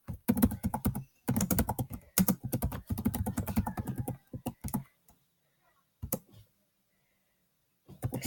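Fast bursts of clicking on a computer keyboard, close and dry, coming in several runs separated by short pauses and a few isolated key taps.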